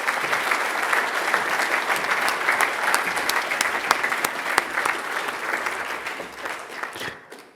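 A large audience at an evening alumni event applauds steadily, a dense wash of clapping with a few sharper individual claps standing out, dying away at the end.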